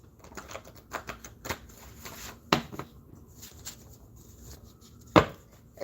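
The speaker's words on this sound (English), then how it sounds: "You see how this is flowing as I'm shuffling?" A deck of cards shuffled during a live spiritual tarot-style reading, giving repeated crisp riffling bursts and sharp slaps, with two louder snaps near the middle and end, close and fairly quiet, with no talking.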